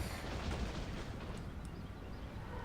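Artillery fire during a Total War Warhammer 2 battle: a dense, continuous rumble of distant cannon booms and blasts blending into one another, steady and heavy throughout with no clear separate shots.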